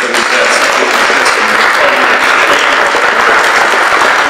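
A large debate audience applauds loudly and steadily, a dense sustained wash of clapping in a hall thanking students from St. Thomas and Visitation.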